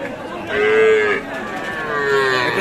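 Cattle moo twice, a long low call followed by a second one, over a busy livestock market murmur of distant voices where young bulls and calves are sold.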